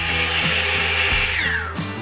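A SENIX 60V brushless cordless leaf blower runs at full power with a loud, steady, close whine and rushing air that tapers slightly near the end.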